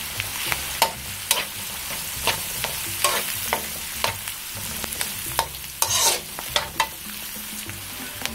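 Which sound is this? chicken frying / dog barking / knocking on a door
chicken frying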